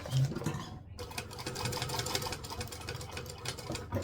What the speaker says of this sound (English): So I'm going to stitch over and then pivot and stitch back.